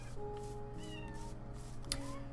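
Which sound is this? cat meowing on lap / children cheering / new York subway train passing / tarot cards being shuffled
cat meowing on lap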